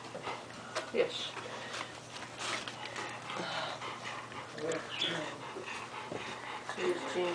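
Five-week-old puppies whimper, sniff and pant faintly at close range while someone talks softly over them.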